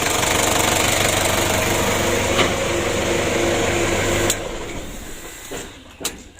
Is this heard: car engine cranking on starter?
yes